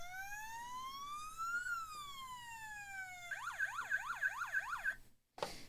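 An electronic siren on a Siku toy police boat sweeps up and down in a slow wail, then switches to a rapid yelping warble, ending abruptly with a brief click.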